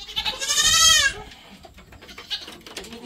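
A male goat on a farm lets out one loud, close, quavering bleat lasting about a second, followed by quieter farmyard sounds and faint bleats in the background.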